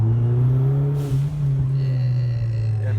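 A Hyundai Genesis Coupe R-Spec engine with a clutch problem revs and its RPMs hang, holding a loud, steady low drone that dips briefly and then settles; a faint higher whine enters toward the end, and no one speaks.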